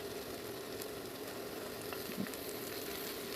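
Carrots and mixed vegetables fry together in a pan for spaghetti, giving a steady, close, even sizzle with faint stirring scrapes and no talking.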